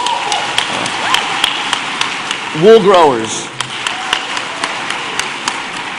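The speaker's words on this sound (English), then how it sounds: "So clap your hands if you've ever been to Luigi's" An audience at the Beautiful Bakersfield Awards gala claps, a scattered patter of hands running steadily in the background while a voice speaks briefly over it in the middle.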